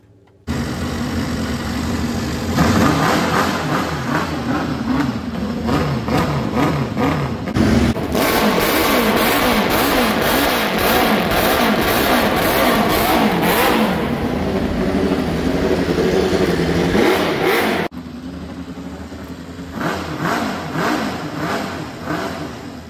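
A Norton Nemesis V8 motorcycle engine running loud and close, idling with a throbbing beat, then revving hard in sustained bursts before dropping back to a rough idle.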